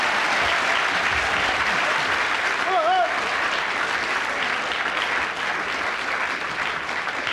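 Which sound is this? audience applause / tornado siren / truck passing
audience applause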